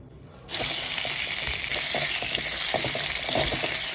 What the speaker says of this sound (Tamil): ஒரு கடாயில் நெய்யை ஊற்றி பிரண்டையை நல்லா வதக்கிங்கோ